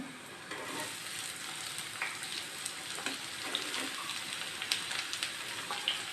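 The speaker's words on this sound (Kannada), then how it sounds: "ಈರುಳ್ಳಿ ಮೆಣಸಿನ್ಕಾಯಿನೂ ಹಾಕ್ತಾಯಿದ್ದೀನಿ" Onion and green chili fry in a pan with a steady, fairly quiet sizzle and crackle, marked by a few soft stirring taps.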